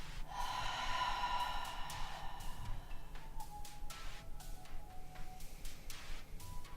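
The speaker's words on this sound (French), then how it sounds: "On va prendre une inspiration par le nez. Et une expire par la bouche." Slow, audible yoga breathing, a long inhale through the nose followed by an exhale out through the mouth, soft and close, with no speech during the breath.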